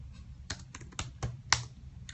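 Keys clack on a computer keyboard as a short search is typed, about seven crisp separate taps in an irregular rhythm, close and fairly quiet.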